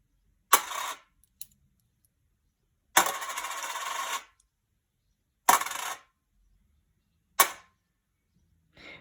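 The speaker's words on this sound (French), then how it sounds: "Des pièces vont tomber dans une boîte." Coins fall into a box in four separate drops, each a short metallic clatter. One drop makes a longer rattle, and quiet gaps come between the drops.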